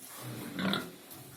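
A fattening pig gives a short, soft grunt up close, rising briefly over quiet background noise.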